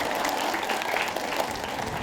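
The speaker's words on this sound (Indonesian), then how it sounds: "Tepuk tangan Bu" An audience at a religious study gathering breaks into steady, dense applause, many hands clapping together at a fairly loud level for the whole moment.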